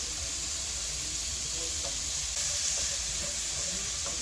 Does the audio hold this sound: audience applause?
no